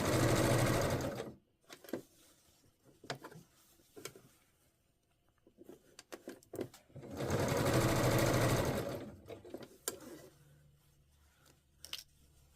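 Sewing machine running bursts of stitching along the back seam of a dress, two long steady runs separated by quiet stretches of fabric handling and small clicks; close and fairly quiet.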